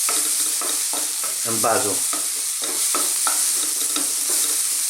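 Chili ingredients, tuna and beans among them, sizzling and being stirred in a pan with a bright steady frying hiss, while a person talks briefly over the cooking.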